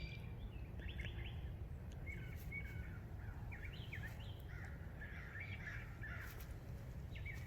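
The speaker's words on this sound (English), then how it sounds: "The birds are fighting? I think they're okay. They're just singing." Birds sing repeatedly along a hiking trail, their calls and chirps coming in short bursts at middle distance, faint over a constant outdoor hiss.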